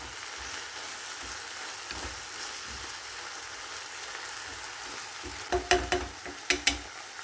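A spoon stirring parsley into a stale-bread dish frying in a pan, with a soft continuous sizzle and, near the end, a few distinct scraping clacks against the pan.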